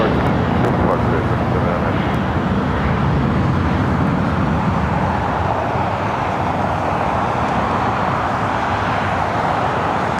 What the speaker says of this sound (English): Another FedEx 767-300 freighter heading to Memphis, flight 1234. You'll be taking off at Foxtrot.